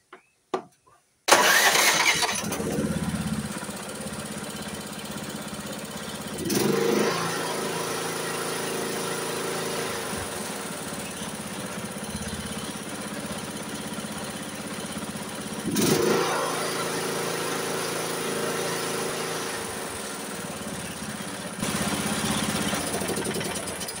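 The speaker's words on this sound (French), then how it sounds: "on va quand même voir s'il fonctionne, si tout est bon. Le ralenti et tout." An MTD 76 lawn tractor engine cranks with a few short bursts, catches and runs steadily, its small-engine drone rising in brief revs twice before settling again, close and loud throughout.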